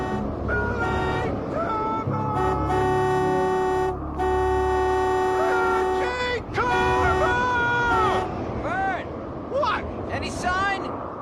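A vehicle horn blown repeatedly in a storm: long, loud sustained honks that rise and fall over roughly eleven seconds, with voices talking over and between the blasts.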